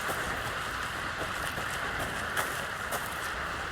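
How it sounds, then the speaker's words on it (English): Steady rain falls in the video game Alan Wake 2, a constant, even hiss of drops on surfaces with occasional slightly louder splashes, with no voices. "Should have brought an umbrella. I like the rain."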